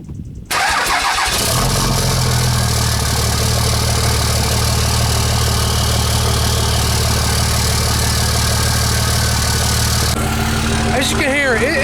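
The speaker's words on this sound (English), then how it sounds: "As you can hear, it's pretty loud." A Cummins diesel engine with a freshly welded straight pipe exhaust cranks and fires up, then settles into a loud, rough, rumbling idle close by, with a brief rev and a voice speaking near the end.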